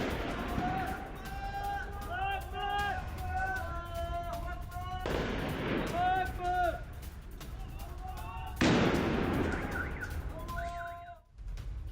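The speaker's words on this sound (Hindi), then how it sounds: "जहां पर ये भारी फायरिंग हुई है" Heavy gunfire rings out near Damascus in news footage: a few sharp, loud bursts break over a steady din of voices and wailing tones that run throughout.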